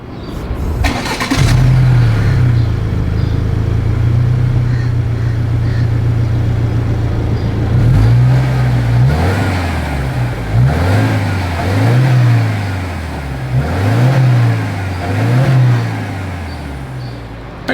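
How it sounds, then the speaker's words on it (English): A 2025 Subaru Legacy with dual exhaust starts, settles into a steady idle, then revs repeatedly in short rising and falling bursts, close and loud with no talk. "As always, here is that exhaust clip."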